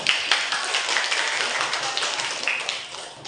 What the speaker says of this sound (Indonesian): Beri tepuk tangan dulu buat Vitonya.